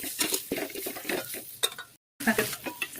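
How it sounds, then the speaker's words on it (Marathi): A spoon stirring spices, carrots and tomatoes in a pan, with scraping clinks against the metal and a soft sizzle, close and moderately loud, with one short silent gap. "सर्व मसाले गाजर आणि टोमॅटो टाकत आहोत."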